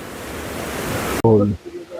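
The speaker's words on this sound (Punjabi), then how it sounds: "ਬਹੁਤ ਤੇਜ਼ ਪਾਣੀ ਚੱਲ ਰਿਹਾ" A fast-flowing mountain river on the road to Shangarh in Kullu rushes with a loud, steady roar. The sound cuts off abruptly and a voice speaks briefly.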